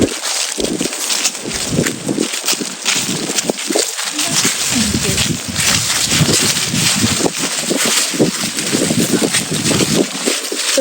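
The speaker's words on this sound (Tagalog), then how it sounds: "Sobrang hangin." Strong gusting wind on Mount Samat in Bataan buffets the microphone in loud, uneven rumbles that go on without a break.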